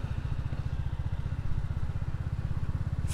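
A Royal Enfield motorcycle engine chugs close by in an even, rapid low thump that holds steady throughout, with no talk over it.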